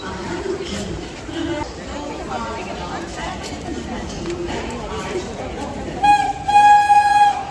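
A crowded Ganadevta Express passenger train runs from Bandel toward Bolpur Shantiniketan during the spring festival rush. A steady rolling rumble carries constant passenger chatter, and a brief tonal, horn-like note rises near the end.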